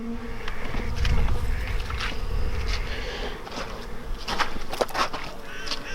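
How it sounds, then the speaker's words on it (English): Honeybees buzz around a beehive on a cold winter day during a polar vortex, a close, steady droning hum with individual bees passing near and fading. "I have seen a couple bees go in and out"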